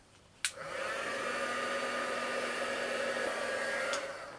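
A hair dryer clicks on and blows a steady, even whoosh over a Christmas village model for a few seconds, then clicks off, fairly quiet and alone.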